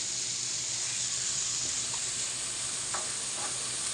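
Cooking oil, virgin coconut and olive, sizzling steadily in a pan for monggo, a constant close hiss with a few faint clicks and no talking.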